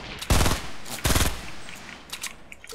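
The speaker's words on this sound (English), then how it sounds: "They're shooting at me." Two loud bursts of automatic gunfire ring out in a Fortnite Battle Royale match, each lasting a fraction of a second, followed by fainter distant shots.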